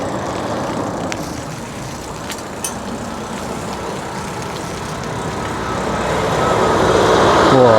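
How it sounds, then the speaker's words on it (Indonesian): A truck passes on a narrow rural village road in Japan, its engine rumble building steadily to a close, loud roar at the end over a constant background of road noise. "Wow, truk."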